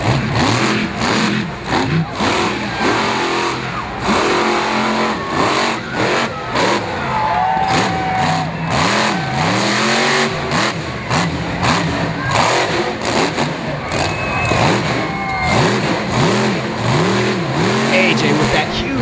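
The Axe monster truck's engine roars and revs continuously at a Miami, Oklahoma monster truck show as it burns down a flat tire, loud and sustained with repeated surging revs and heavy crowd-arena noise throughout.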